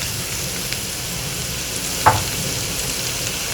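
Cabbage, onion and green chillies fry in a pan for Chinese rice, a loud, steady close sizzle with a single brief clatter of a stirring utensil midway and no voices.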